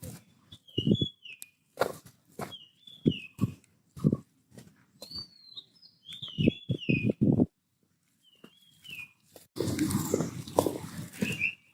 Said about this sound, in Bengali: পাখির আওয়াজ শোনা যায় একেবারে।